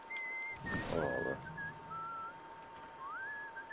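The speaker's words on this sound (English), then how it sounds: "Is that you whistling?" Someone whistles a wavering, tuneless melody in Red Dead Redemption, faint and intermittent, broken by a brief burst of noise near the start and a steady faint background tone.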